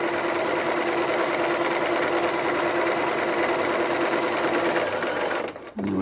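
A sewing machine stitches a knit fabric dress seam, running in a fast, steady, even hum of needle strokes for several seconds before stopping abruptly.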